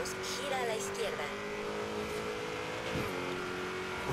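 Steady city car traffic in the Forza Horizon 3 racing game, with engine drone and passing vehicles under a spoken Spanish sat-nav voice, plus a brief tire squeal or rev near the end.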